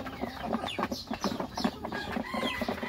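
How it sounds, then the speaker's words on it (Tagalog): Rhode Island Red chickens feed inside a small hut early in the morning, giving soft, steady clucks and scratchy pecking sounds close by, with no one speaking. "Check natin itong ating Rhode Island Red dito sa loob ng kubo. Ayun, kain-kain na naman sila."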